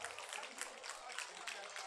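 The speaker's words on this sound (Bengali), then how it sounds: "অনবদ্য পারফরমেন্স, একবার জোরে করতালি হয়ে যাক।" Audience applause after a dance performance: continuous, dense clapping from a crowd, faint and distant, holding evenly throughout.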